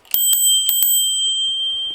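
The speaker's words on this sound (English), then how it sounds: "That's probably one of the best kind of bells I've seen on one of these bikes." Four quick, bright rings of the bell on an Eskute Netuno e-bike, close and loud, each strike leaving a long sustained tone that fades slowly over about two seconds, with faint handling noise afterward.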